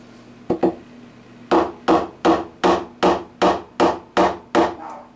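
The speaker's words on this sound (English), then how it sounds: "This one I might have to hammer down." Two quick taps, then a steady run of eight sharp hammer blows driving guitar frets into a wooden fingerboard, evenly spaced and close, over a faint background hum.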